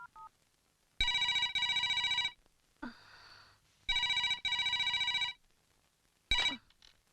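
A telephone ringing in a house at night, three loud electronic ring bursts of about a second each with short pauses between them, clear and close, with faint rustling between the rings.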